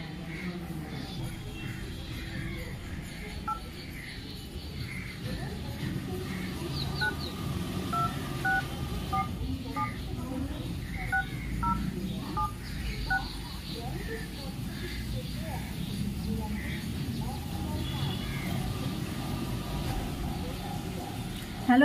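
A phone number is dialed, with faint tonal beeps sounding over a steady background of indoor noise and room hum, close to the phone and without clear talk.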